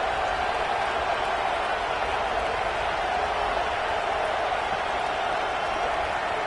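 Crowd noise fills a stadium at a college football playoff game, a dense, steady roar that stays loud and unbroken throughout.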